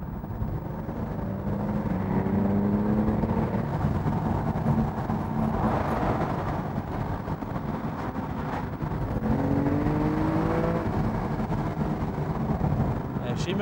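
An Aston Martin V8 with its stock exhaust accelerates, the engine note climbing through two rising pulls over a constant road roar, while someone talks over it inside the car.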